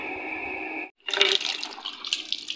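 Water filling a container for pet parrots: a steady tap-like flow cuts off briefly, then resumes as a splashing, bubbling pour that continues to the end, close by with no voices.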